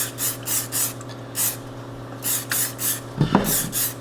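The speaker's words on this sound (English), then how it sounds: "you're gonna spray this on when you're done. Just a light mist." A spray bottle of Colorlock waterproofing repellent for shoes gives a rapid series of short, hissing mist bursts in a steady rhythm, close by, with a faint steady hum underneath.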